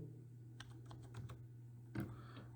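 Typing on a computer keyboard while entering a Linux command, a short run of light, quick key clicks followed by a firmer keystroke, close and fairly quiet over a low steady hum.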